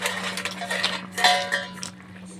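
A spoon scraping and clinking against a pan while stirring shukto curry with bori, eggplant and bitter gourd, soft irregular metallic taps and scrapes over a steady low hum.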